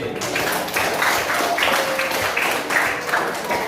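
Classroom applause for class 9B during a junior-high computational thinking lesson: a steady wash of many hands clapping together, moderately loud and sustained for a few seconds, with faint voices mixed in.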